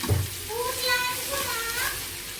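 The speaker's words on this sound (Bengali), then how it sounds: "মশলা দিয়ে দিলাম এখন ভাজা হয়ে গেছে পাস্তা দিয়ে দিচ্ছে মাংস আর সব জিনিস" Pasta with spices and chicken frying together in a pan gives a steady, close sizzle throughout, with a faint voice in the background.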